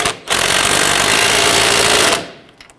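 A power tool tightening the lower sway bar link bolt on a Dodge Charger's rear suspension: a single loud, rattling impact-like burst of about two seconds, close by and with no talking.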